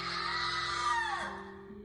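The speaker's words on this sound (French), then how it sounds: "C'est vous qui venez de hurler?" A drawn-out scream in a French horror story about a nursery ghost, a loud, sustained high wail lasting nearly two seconds and gliding downward at the end over a steady low hum.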